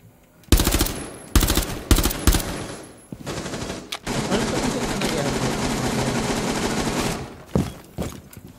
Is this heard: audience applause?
no